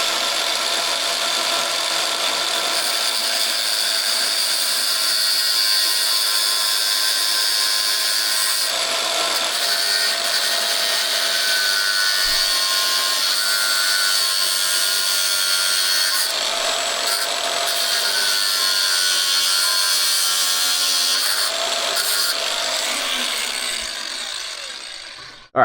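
A power sander whirs steadily against wood with a continuous high-pitched rubbing drone, briefly easing off now and then before winding down at the end.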